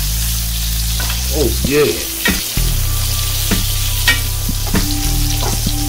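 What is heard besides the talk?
pork chops frying in garlic, thyme and butter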